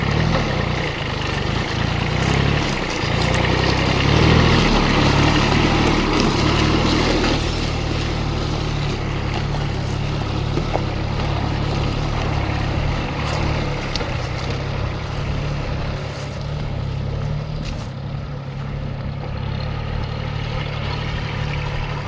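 A tractor engine runs steadily on a grape farm in a Sangli village, a loud, low, continuous rumble close by that eases slightly in volume partway through, with no talk over it.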